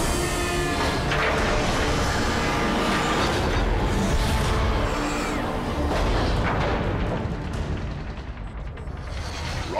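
Long-range artillery fires in Transformers: Fall of Cybertron, a dense, continuous roar of booming blasts and battle noise that stays loud throughout.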